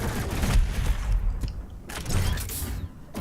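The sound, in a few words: heavy cannon gunfire in video game Doom Eternal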